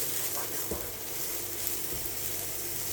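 Onions mixed with a little cabbage sizzle steadily in a hot pan, a continuous close hiss with a few faint stirring clicks and no talking.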